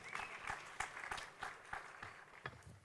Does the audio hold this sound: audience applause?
yes